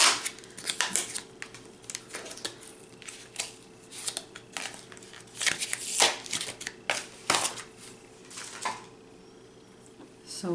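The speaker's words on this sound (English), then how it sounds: "Let's break the packaging." Packaging on a Sephora holiday makeup palette is torn and broken open. Sharp, close crinkles and snaps come in irregular bursts, with a voice talking faintly underneath.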